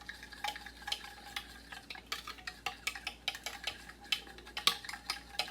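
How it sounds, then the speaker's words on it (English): A spoon stirs grape pudding mix with water into a paste in a bowl, making quick, irregular clinks and scrapes against the sides, close and alone with no talk. "Now, they want you to mix it into a paste."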